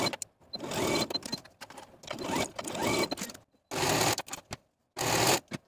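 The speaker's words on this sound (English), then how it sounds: "sew these seams with a 5/8 inch seam allowance" A home sewing machine stitches the sleeve seams of a Simplicity 8889 button-up top in several bursts of rapid motor chatter, separated by short pauses, close by with no talking.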